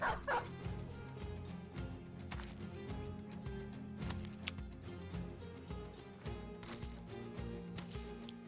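Dogs bark and yip during a war dog attack in the video game Battle Brothers, a string of short barks and whimpers over a low game soundtrack at moderate volume.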